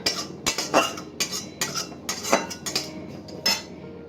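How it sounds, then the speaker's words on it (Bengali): A metal utensil scrapes and clatters against a pan while roasting fenugreek seeds, in quick, uneven strokes, close and fairly loud, with no voices. "হালকা নাড়তে হবে, হালকা"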